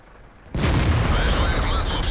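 A tank cannon fires in the World of Tanks video game, a sudden loud boom after a quiet half-second, then a sustained rumbling blast with crackling and ringing tones trailing off.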